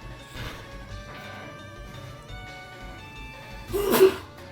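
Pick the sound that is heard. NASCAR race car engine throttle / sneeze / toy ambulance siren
sneeze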